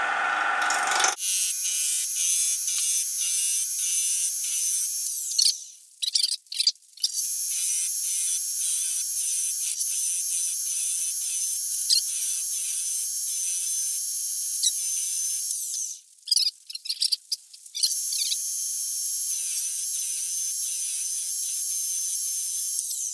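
A wood lathe spins a bowl blank as it is rounded, giving a steady, loud, hissing cutting roar that breaks off briefly twice into choppy, stuttering bursts before resuming, with no talking.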